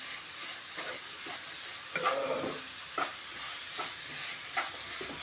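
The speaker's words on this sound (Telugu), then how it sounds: "బాగా షుగర్ పాకంలో ఫ్రై కావాలి" Grated carrot halwa cooks in sugar syrup, giving a faint continuous bubbling sizzle with repeated spoon scrapes and stirring taps at a steady pace, without talk.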